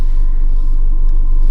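A steady, loud low rumble fills a moving car's interior while driving, a constant road-and-engine drone with no speech and no other sounds.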